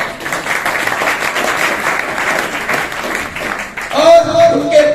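Audience applause at a motivational talk, a dense crowd clapping steadily for about four seconds before a voice and tonal sound cut in near the end.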